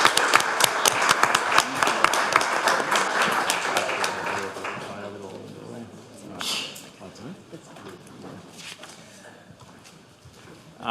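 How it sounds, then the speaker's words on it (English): Applause for award winners at a council meeting, a dense burst of clapping from a seated crowd that tapers off after a few seconds into quieter room murmur, with a brief flurry again near the end. "one more round of applause for all our fantastic award winners"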